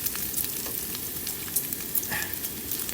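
Bacon frying over a camp fire inside a van, a steady dense crackle and spit running unbroken from start to finish with scattered sharper pops, close and fairly loud, no voices.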